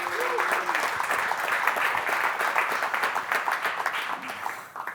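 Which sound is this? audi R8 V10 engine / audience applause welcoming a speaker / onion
audience applause welcoming a speaker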